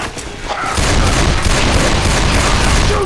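Rapid, dense gunfire from a magnum pistol and other weapons in Left 4 Dead 2 rattles loudly and continuously, a thick barrage of close shots with no talking.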